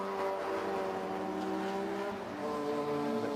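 A race car at Silverstone International during a 750 Motor Club race pulls into the pits, its engine holding a steady, buzzing harmonic drone that dips slightly in pitch, with no talking.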